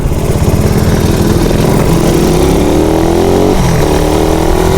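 A Raider motorcycle engine idles steadily and close by, a loud continuous buzzing drone with a slight drift in pitch and no voices over it.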